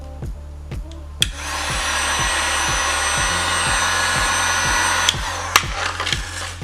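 A heat gun blows hot air over vinyl wrap on the front lip of a 2013 Kia Forte, a steady close hiss and whir with a few sharp taps and clicks around it.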